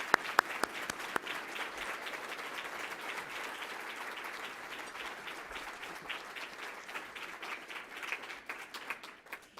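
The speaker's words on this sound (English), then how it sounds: "please give him a big round of applause." A large room of people at a downtown civic presentation gives sustained applause, a dense, even wash of many hands clapping throughout, with a few sharper, closer claps standing out.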